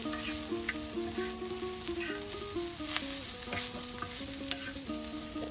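Potato slices fry crisp in oil in a village kitchen, giving a soft, steady sizzle with occasional stirring scrapes under a melodic music track.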